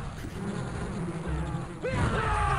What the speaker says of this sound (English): they're being scattered by bees